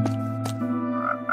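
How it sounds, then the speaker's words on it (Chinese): A frog croaks in the Minecraft video game during a rainstorm, two short, close croaks over a steady tonal hum, with no talk. "哎，青蛙怎么来了？"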